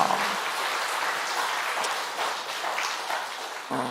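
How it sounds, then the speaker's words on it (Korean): Church congregation applauding in a steady, dense wash of clapping that holds for several seconds, then thins slightly toward the end. "격려 지지 박수 한번 해주시길 바랍니다"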